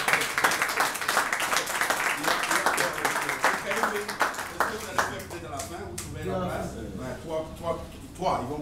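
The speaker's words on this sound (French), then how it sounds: "Donc une fois de plus, on peut vraiment l'applaudir" Applause for a colonel at an investiture ceremony, a dense round of clapping that gradually thins out while voices and talk come up underneath toward the end.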